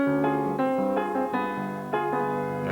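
Piano chords in an arrangement over a bass line that steps down chromatically from the root, several sustained chords changing in a steady, unhurried sequence, played clearly with no talking.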